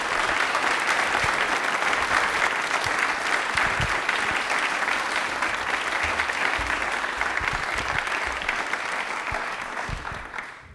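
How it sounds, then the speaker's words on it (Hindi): A studio audience at a televised Independence Day quiz show gives steady, loud applause that fills the whole stretch without talk and fades slightly at the end. "तालियां जोरों से बजा दीजिए"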